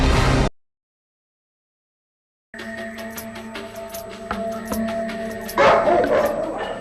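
British Army attack dogs at the main base in Bosnia, barking and yipping repeatedly at mid distance after a short burst of sound and a gap of silence, with voices mixed in.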